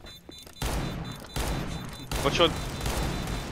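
An R6 revolver in CS:GO booms out three loud, separate shots spaced about three-quarters of a second apart, with a player's brief spoken warning near the start.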